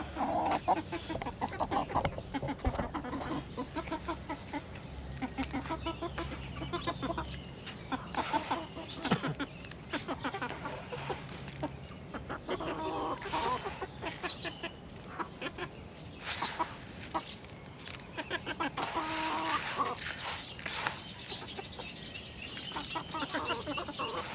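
Backyard chickens cluck steadily throughout, with occasional chirps and a busy, close-up farmyard bustle filling the whole stretch.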